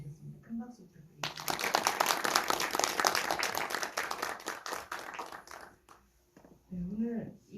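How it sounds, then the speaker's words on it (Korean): Audience applause breaks out at a film screening and director talk at a Korean cinematheque, a dense burst of clapping lasting several seconds and fading out, with a host speaking before and after it. "큰 박수 부탁드립니다."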